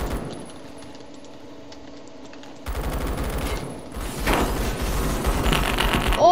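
Rapid automatic fire from an MG36 light machine gun in a shooting video game, with dense bursts of shots that grow louder and continue to the end, along with mechanical clicks.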